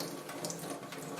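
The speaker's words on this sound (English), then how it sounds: "you put in 1 teaspoon of water" Water running into a container while mixing bread-based fish bait, a short, soft, steady trickling splash close by.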